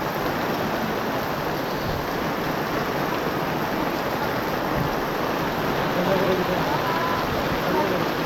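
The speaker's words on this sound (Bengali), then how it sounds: "বাইরের বৃষ্টিটা একটু দেখুন।" Heavy rain falls steadily outside a small tea stall on Chandranath Hill, a dense, loud, unbroken wash of noise throughout, with voices faintly mixed in.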